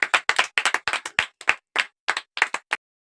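Hand clapping as a reward in a guessing game, a quick uneven burst of about fifteen sharp, close claps that stops abruptly, followed by silence.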